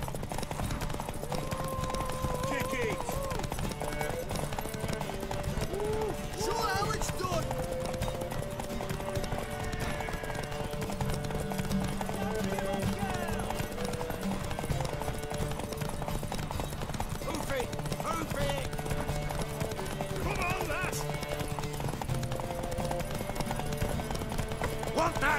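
Hooves of a galloping horse in The Witcher 3 pound in a steady, rapid clip-clop beneath a busy game soundscape, with occasional whinnies and character voices talking over it.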